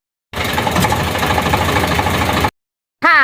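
A tractor engine runs loud and close with a rough, steady rumble for about two seconds, then cuts off abruptly, followed by a brief burst of a voice.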